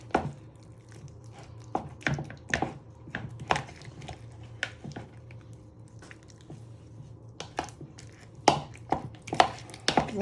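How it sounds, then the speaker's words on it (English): Cucumber and mint mixture being stirred in a bowl with a spoon, a series of wet squelching scrapes and clinks in an irregular rhythm, close and fairly quiet, with no talk. "now you've added all your cucumber, you want to give this a good stir"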